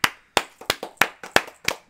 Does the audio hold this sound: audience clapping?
yes